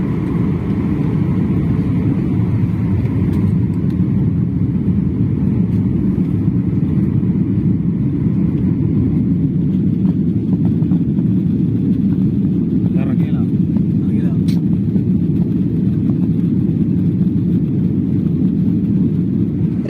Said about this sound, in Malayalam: ലാൻഡ് ചെയ്യാൻ മീറ്ററുകൾ മാത്രമുള്ളപ്പോൾ എയർ ഇന്ത്യ എക്സ്പ്രസ് വിമാനം റൺവേയിൽ തൊട്ടില്ല എന്ന നിലയിൽ നിന്നും വീണ്ടും ഉയർന്നു പറന്നു